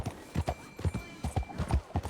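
Horse hooves clip-clopping in a video game: a steady, quick rhythm of crisp hoof strikes, moderately close and fairly quiet, with no talk over them.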